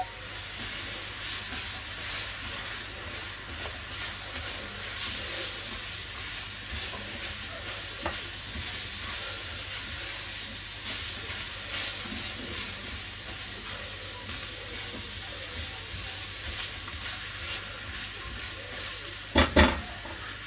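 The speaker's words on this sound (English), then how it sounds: "while my onions were frying" Onions frying for a homemade curry sizzle steadily in a pan, a continuous bright hiss with occasional stirring scrapes and a brief louder clatter near the end.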